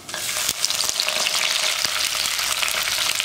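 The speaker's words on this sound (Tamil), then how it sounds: "பூண்டு நல்லா வதங்கிடுச்சு" Garlic, curry leaves and fennel seeds fry in about four spoons of hot oil for cauliflower kootu, giving a close, steady sizzle with occasional stirring clicks.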